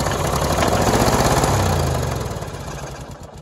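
A snow mower engine fed starting fluid into the carburetor sputters and runs in a loud, rough, rapid pulsing chug close by, then fades and slows as it dies down.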